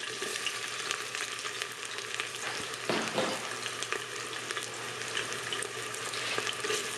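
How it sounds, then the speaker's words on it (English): Chopped onion sautéing in hot oil in a pan, a steady close sizzle with crackling and occasional stirring scrapes and clinks, no voices. "I'm gonna saute the onion and let it get about half done."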